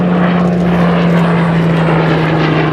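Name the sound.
Hawker Hurricane PZ865 propeller aircraft engine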